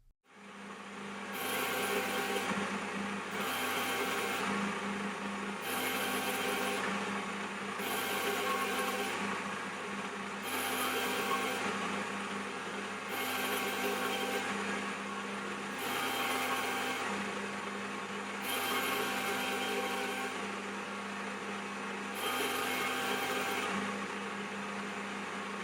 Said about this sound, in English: running the lathe in reverse, cutting on the back side there to cut the taper